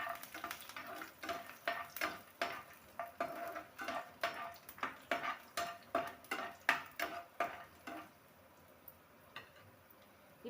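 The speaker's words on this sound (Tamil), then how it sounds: "பூண்டு சேர்த்து நல்லா வதக்கி விட்டுடலாம்." Garlic and mustard seeds sauté in a pan, a soft sizzle under steady, rhythmic scrapes and clinks of a spoon stirring against the metal, quiet and close.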